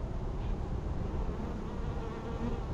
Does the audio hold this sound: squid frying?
no